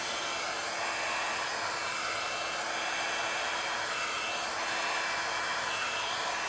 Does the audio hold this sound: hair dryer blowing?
yes